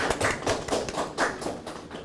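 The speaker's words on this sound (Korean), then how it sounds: "박수로 맞이해 주시기 바랍니다." Rhythmic, fairly loud clapping from a forum audience welcoming a lecturer, the claps coming in regular beats about four times a second.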